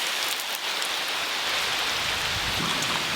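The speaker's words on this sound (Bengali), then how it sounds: "যেমন মেঘের গর্জন আর তেমন আজকে বৃষ্টিটা হচ্ছে" Heavy rain pours steadily and close by, a dense continuous hiss, with a faint low rumble of thunder now and then.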